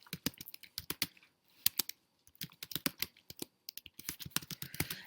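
Close, quick keyboard typing of text into a comment box in a PDF annotation tool, with bursts of crisp key clicks separated by short pauses.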